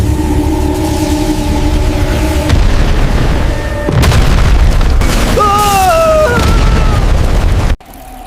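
A heavy animated battle explosion and shockwave, a loud sustained booming rumble with crackling bursts and swooping tonal whooshes, cutting off abruptly near the end.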